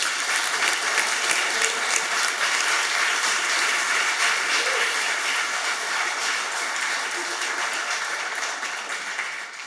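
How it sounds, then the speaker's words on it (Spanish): Church congregation applauding for Jesus Christ during a Spanish-language Christmas Eve service, a dense, steady wash of clapping that holds loud for the whole stretch and eases slightly near the end. "Dale un aplauso al Señor Jesucristo"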